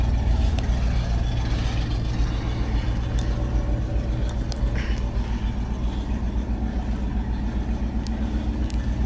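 A 1978 Chevrolet Suburban engine idles in the snow after a cold start, giving a loud, steady, close rumble that holds evenly throughout with no voices.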